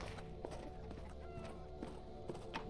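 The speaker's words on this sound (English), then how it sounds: "I'm guessing it's just the gentleman walking around that I hear." Footsteps of a man walking around in Arx Fatalis thud faintly in a steady, soft rhythm over low ambient drone.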